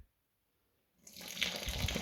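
Hot tap water pours steadily into a fermenting vessel while Geordie lager is being brewed, starting abruptly after a second of silence and continuing as a loud, close splashing flow.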